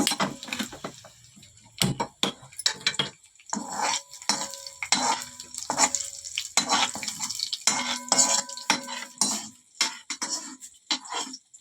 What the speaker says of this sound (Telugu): ఎల్లుల్లిపాయలు, ఎండుమిరపకాయ, జీలకర్ర, కరివేపాకు ఇప్పుడు వేసేసుకున్నాం